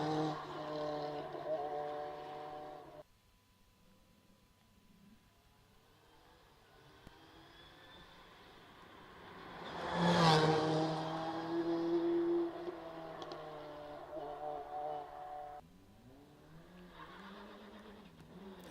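A Ford Escort Mark I RSR race car at a Wexford hillclimb, faint and distant, its engine note swelling as it passes close around the middle before fading away, mostly alone with little else audible.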